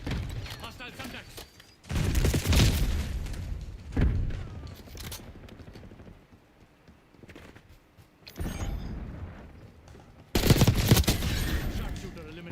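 Semtex grenade blast and rapid gunfire in the video game Call of Duty Black Ops 6, several loud bursts of shots and booms with quieter gaps between them, a brief voice line heard among them.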